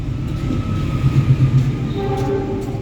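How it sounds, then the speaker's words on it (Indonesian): A container freight train passes Karawang station, a loud, continuous rumble with rhythmic wheel clatter on the rails and a sustained tonal horn-like whine near the end. "ada semacam kereta kontainer ya yang melintas langsung stasiun Karawang"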